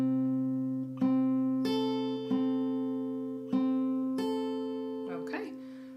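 Guitar chords from the fifth bar of a song, including a fretted barré shape, ring out in a steady series of strums over a held low drone, close and clean.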